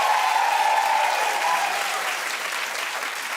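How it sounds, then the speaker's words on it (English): Audience applause following the announcement of Oscar Best Director nominees, a dense, even clapping from a large crowd that holds steady and then eases slightly. "they clapped after every single nomination"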